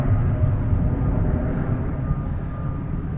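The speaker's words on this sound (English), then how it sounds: "So got a plane up there departing." A propeller airplane departing overhead near a P-38 display, a steady broad low rumble that holds loud throughout and fades slightly toward the end, with no talking.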